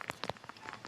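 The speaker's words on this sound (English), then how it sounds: "as some rain now starts coming down" Light rain starts falling at an outdoor baseball game between the Orlando Monarchs and Atlanta Smoke, scattered drops tapping close by in a quiet, uneven patter.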